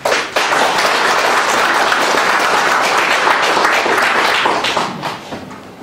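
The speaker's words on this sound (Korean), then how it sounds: "박수 한번 주십시오." Audience at a press conference launching a citizens' movement gives loud, dense applause for a lawyer being introduced, sustained for several seconds and fading at the end.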